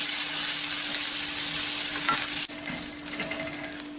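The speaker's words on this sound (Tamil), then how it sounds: "பூண்டு, கருவேப்பிலை, தேங்காய். தேங்காய் நல்லா செவந்து வரட்டும்." Garlic, curry leaves and grated coconut frying and being stirred in a pan for a Tamil capsicum masala, a steady close sizzle with scraping stir strokes and a brief pause midway.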